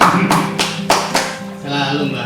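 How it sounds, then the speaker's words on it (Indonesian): A handful of sharp, separate claps from an audience ring out in an uneven rhythm, followed by a softer murmur of voices. "Tepuk tangan biasa biar semangat"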